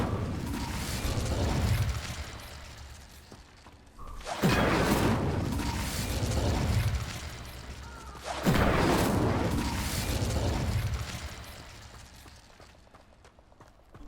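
Incendio fire spell igniting objects in Hogwarts Legacy, three loud whooshing flare-ups at steady intervals, each burst trailing off into a softer crackling burn before the next, with no talking.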